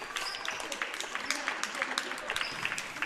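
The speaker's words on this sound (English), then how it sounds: "the parents are applauding that, too." Parents in a school gym applaud during a boys' high school basketball game, a light scattered clapping that carries steadily for a few seconds under crowd murmur and talk.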